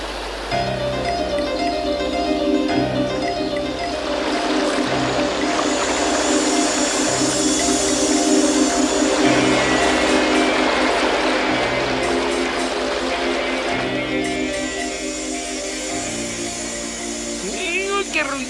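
Cartoon flood scene with a rushing, overflowing river, a steady broad roar of water running throughout under a voice speaking and background music.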